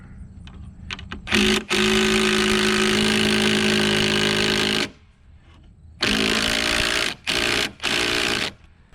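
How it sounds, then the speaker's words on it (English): A power drill drives long construction screws down through a rafter into the top course of a tiny log house wall, in loud sustained whirring bursts with short pauses between them. "screw right down through there, straight down, and that screw is going to end up being right into our top course here"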